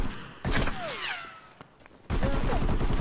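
Shotgun fire in a video game firefight: a loud, close blast, a quieter tail with a couple of fainter reports, then a second sustained burst of gunfire rolling in near the end.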